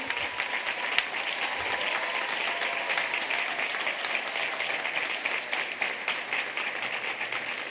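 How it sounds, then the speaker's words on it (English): Sustained audience applause fills a large congress hall at a hospitality school's closing ceremony, steady and dense clapping from a big crowd throughout, with no speech. "So please give them a big applause for supporting you"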